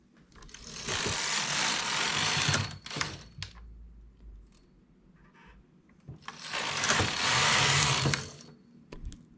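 A knitting machine works rows of plain stockinette stitch, with two long, loud whirring carriage passes separated by a quieter stretch of small clicks and handling noises, heard close and without speech.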